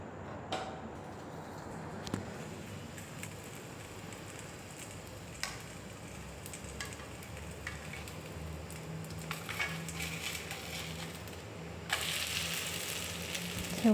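Prata frying in oil in a pan, a quiet steady sizzle with occasional small ticks and clatters, growing a little brighter near the end, no talking.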